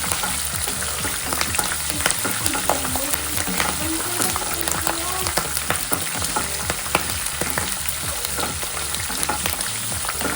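Tempering for temple-style lemon rice frying on a low flame, a constant sizzle with repeated rhythmic scraping of a spoon stirring around the pan, fairly close and without talk.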